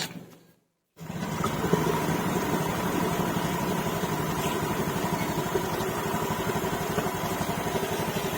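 A Honda Beat ESP K81H motorcycle engine, battery disconnected, starts after a brief silence and settles into a steady, close idle with a rhythmic throb that continues to the end.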